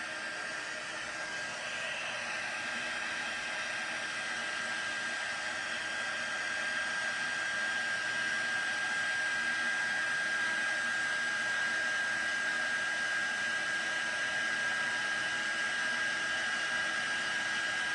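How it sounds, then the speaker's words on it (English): An embossing heat tool set to high runs continuously for the full stretch, a steady, even whooshing blower noise at close range with no talking, used to melt gold embossing powder on a stamped card. "I'm going to go ahead and start the heat tool"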